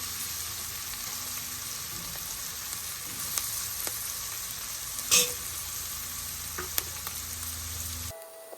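Thick homemade BBQ sauce with thyme and bacon simmers and reduces in a pan, giving a steady close sizzle and bubbling throughout with a few faint clicks and no talking.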